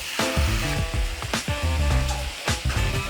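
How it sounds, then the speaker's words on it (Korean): Beef stir-frying in a pan over high heat for bulgogi, a loud, steady sizzle with repeated scraping and tossing strokes throughout, close and with no talking. "소고기 볶으실 때는 불을 다시 구로 강하게 키우시고 이게 소리가 나는 온도에 다 넣고 이제 볶아주세요."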